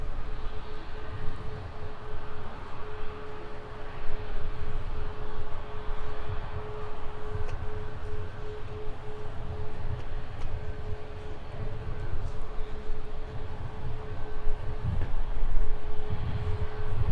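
An Icelandair Boeing 737 MAX 9 taking off from runway 12 right, a sustained low engine roar with a steady hum, rising slightly toward the end.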